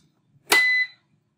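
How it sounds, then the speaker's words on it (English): A CertaUPS uninterruptible power supply in a fault condition after being switched off sounds a single short, high electronic beep that is clear and alone against silence. "you hear the beep noise, which means it's gone into fault condition"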